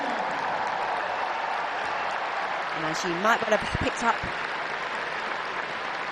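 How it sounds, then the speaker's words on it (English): A stadium crowd at a Brighton & Hove Albion versus Manchester United Barclays Women's Super League match at the Amex Stadium applauds warmly, a broad, even wash of clapping from afar beneath a commentator's voice. "it's greeted with warm applause by supporters around the Amex Stadium"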